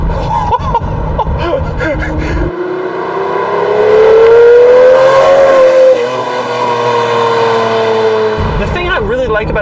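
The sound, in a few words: Lamborghini Murcielago LP640 engine revving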